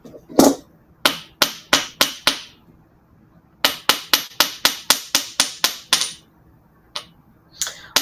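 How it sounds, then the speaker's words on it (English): A metal hammer taps wire flat on a steel bench block: a single strike, a quick burst of five, then a longer run of about a dozen sharp, ringing taps, and a few final blows, loud and close with no talking. "Hammer that down."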